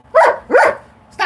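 A dog barks twice in quick, loud, close yelps, with the start of a third bark at the end; no talking.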